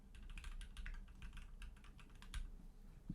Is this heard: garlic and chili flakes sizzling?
no